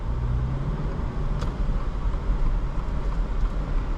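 A 2023 Subaru Outback Wilderness engine drones steadily from inside the car under a constant low road rumble. No one speaks.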